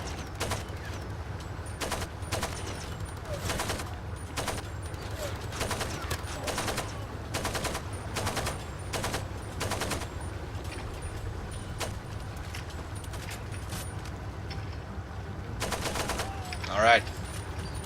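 Repeated single gunshots and short bursts in the Far Cry 2 shooter, evenly spaced sharp cracks over a steady low background, with a denser cluster of shots near the end.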